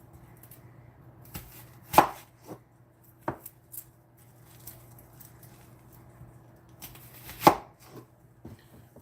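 A knife chopping through an onion on a cutting board, a handful of sharp separate thuds spread irregularly over several seconds, close and clear against a quiet kitchen hum, with no speech.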